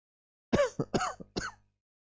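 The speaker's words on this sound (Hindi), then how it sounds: "खांसी खत्म ही नहीं हो रहा" A short burst of coughing: four rough, harsh hacks in quick succession, fairly close, with quiet before and after.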